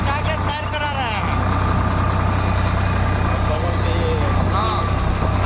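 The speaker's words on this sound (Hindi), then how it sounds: "आज हम ट्रैक्टर चला रहे हैं" A tractor engine runs at a steady low rumble while being driven along, constant and close throughout, with people talking over it.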